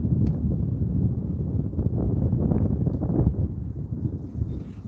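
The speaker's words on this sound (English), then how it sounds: "Wind started up, Nolan." Wind blows steadily outdoors by a river, a loud continuous low rumble buffeting the microphone without pause.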